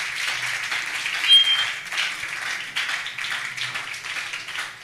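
A church congregation applauds together during a service, a dense, steady wash of many hands clapping that holds at an even level for several seconds with no voices over it.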